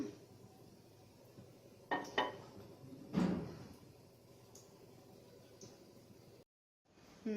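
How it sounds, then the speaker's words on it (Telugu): A metal pan is set down on a kitchen stove before milk and rice go in for paramannam, giving a few close, sharp clanks and knocks over a quiet room, then a brief silence. "ముందుగా మనం స్టవ్ని ఆన్ చేసుకుందాం. ప్యాన్ పెట్టుకుందాం."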